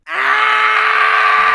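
A single sustained, loud scream from downstairs, a sound effect in an animated horror story, rising abruptly and holding steady as one long, strained cry.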